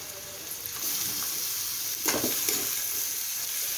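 Kanjal, a fermented rice water, is poured into a frying pan over dried chilies for a shrimp dish, setting off a soft hiss that flares into a sharper, louder sizzle about halfway through, then settles into steady frying.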